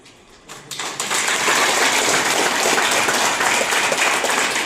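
An audience at a speech during a Satara foundation event, with a few scattered claps building within a second into sustained, dense applause that holds loud and steady to the end.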